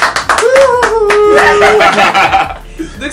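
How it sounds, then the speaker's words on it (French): A small group at home bursts into brief clapping mixed with chuckles and laughter, close and fairly loud, fading out after a few seconds. "On applaudit pour Nico s'il vous plaît."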